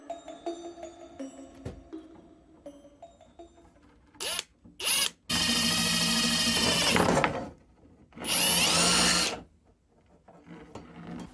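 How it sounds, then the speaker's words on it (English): A power drill bores a hole near the top of metal scaffolding: a few short whirring bursts, then two longer sustained runs of high-pitched drilling, with quiet gaps of faint handling noise between. "drill a hole at the top of this metal scaffolding"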